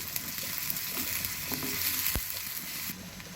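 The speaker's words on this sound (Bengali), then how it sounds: "পেঁয়াজ কুচিটা দিয়ে হালকা করে ভেজে নেব" Two chopped onions hissing in hot oil in a pan, a steady close sizzle with a few stirring scrapes and a soft knock, the hiss dropping slightly near the end.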